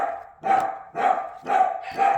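A dog barks four times in a steady, evenly spaced rhythm, each woof loud and close, with short quiet gaps between.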